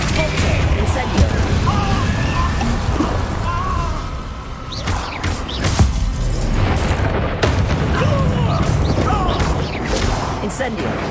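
Fiery spell blasts from the Incendio fire spell in the Hogwarts Legacy video game, several booming bursts over a dense, continuous roar of game effects and music.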